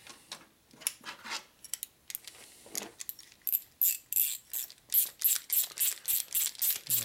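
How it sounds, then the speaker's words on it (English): A ratchet wrench tightens a bolt on a 1980 Harley-Davidson Shovelhead 92ci stroker engine during a top-end rebuild, its pawl clicking in irregular bursts that settle into a steady run of close, crisp strokes. "I'm going to tighten this one up a little bit right now."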